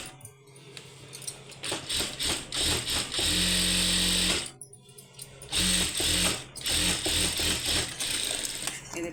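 A sewing machine runs an edge seam along patterned fabric, its motor whirring in bursts of fast stitching with short pauses between runs, close and fairly loud with no talk over it.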